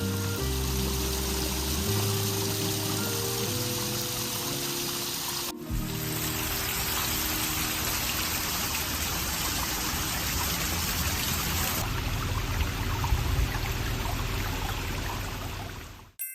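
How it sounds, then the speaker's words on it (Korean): Continuous flowing water at the Bonte Museum on Jeju, a concrete building by Tadao Ando, a steady even rush with no voices over it. "안도 타다오의 건축과 제주의 자연경관, 물소리와의 조화가 잘 이루어지는 이 공간에서 잠시 물소리에 귀를 기울여보자."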